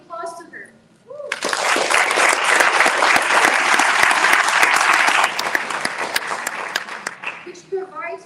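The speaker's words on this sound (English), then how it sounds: "all give applause to her" Audience applause breaks out at an international human rights summit on education for peace, a dense, steady wash of many hands clapping for several seconds, with brief speech before and after.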